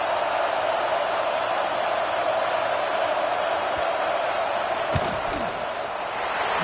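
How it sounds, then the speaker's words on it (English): A steady, loud wash of stadium crowd noise fills a College Football 26 video game during a field goal attempt, with a brief thump partway through. "This crowd trying to do its part to get inside the kicker's head."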